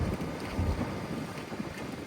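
Wind buffeting outdoors on a weekend trip to Orø island, a steady broadband rush with low rumbling gusts pressing on the microphone, continuous and fairly loud with no voices.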